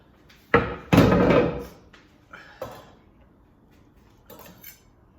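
A cutting board pushed aside on a kitchen counter while butchering a beef tenderloin, making a few close, hard clattering knocks, with one longer scraping clatter near the start and softer bumps afterward.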